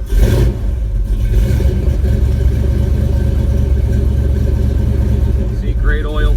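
A 1978 Ford F-150 with a 460 V8 and Flowmaster 44 mufflers, running cold with a little choke: a loud, deep, steady rumble close by, with slight swells of revving, and a brief voice near the end.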